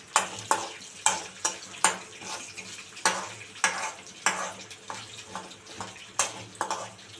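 Urad dal and chana dal sauté in a pan for a chutney, a spatula scraping and stirring in quick repeated strokes over a soft sizzle, close and moderately quiet.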